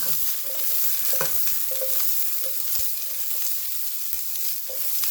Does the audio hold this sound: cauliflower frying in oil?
yes